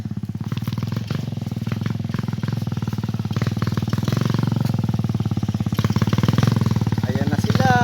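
Motorcycles ride up a trail near waterfalls in the Sierra Madre, engines putting close and loud with a rapid, pulsing idle throb and clattering over rough ground, while people talk nearby.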